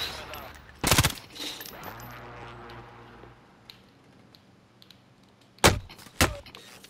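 Sparse gunshots in Call of Duty: Modern Warfare, one sharp shot early on, then a quiet stretch with faint background noise, then two more close shots near the end.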